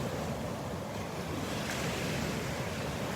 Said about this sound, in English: I love the sounds of the waves.